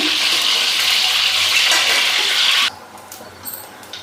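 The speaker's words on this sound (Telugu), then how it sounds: "గుడ్లునైతే ఇలా వేపేసుకోవాలండి" Eggs sizzle loudly in hot oil in a pan, a steady bright hiss that cuts off abruptly partway through, leaving quiet with faint clinks.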